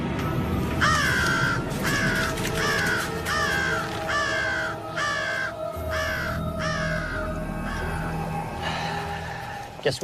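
A crow caws in a steady series of about eight harsh calls, evenly spaced and fairly close, over a constant outdoor background hum in a forest, with no talking.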